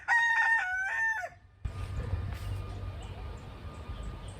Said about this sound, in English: We got little baby chicks in the chicken coop